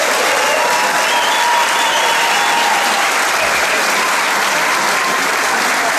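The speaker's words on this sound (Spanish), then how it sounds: "a quien pido un aplauso" Loud, sustained applause from a large crowd at a political rally in New York, dense clapping filling the whole stretch with faint voices and cheers mixed in.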